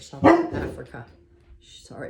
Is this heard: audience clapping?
no